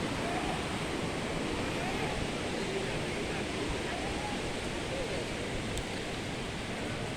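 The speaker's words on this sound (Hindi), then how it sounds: "हमारे पास ये एक पानी बह रहा है," Steady rushing water of the Neelam River in Azad Jammu and Kashmir fills the scene without pause, a broad wash of flowing sound close by.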